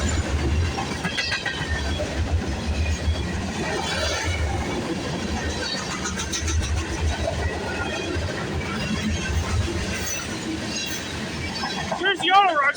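A CPKC freight train rumbles past Milton GO station on a rainy early morning, a loud continuous roar of wheels and rail clatter filling the whole span, with people talking over it.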